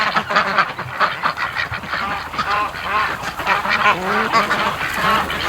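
A noisy flock of breeding ducks quacks nonstop, many loud overlapping calls close by with no pauses, as they rush home from the mud.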